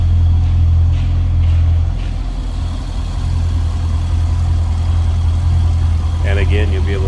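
2006 Chevrolet Corvette coupe with its LS2 6-liter V8 idling steadily, a deep even rumble close by with brief faint voices near the end.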